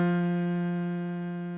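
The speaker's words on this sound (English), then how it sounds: "The middle note on a piano is called middle C." A single sustained middle C rings out from a piano, steady and harmonically rich, with a fresh re-strike near the very end and no voices present.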